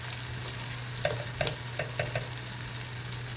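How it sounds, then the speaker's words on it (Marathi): Turmeric, coriander powder, garam masala and ghati masala fry in oil in a pan, a low steady sizzle with a few quick spoon scrapes and taps in the middle, alongside a constant background hum. "हे मसाले आपण तेलामध्ये परतून घेऊया"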